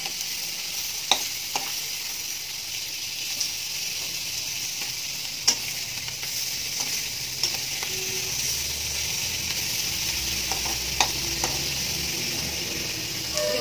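Chandana dried fish curry with potato sizzles softly in a pan, a steady low frying hiss broken by occasional sharp crackles and stirring clicks, heard alone without any voices.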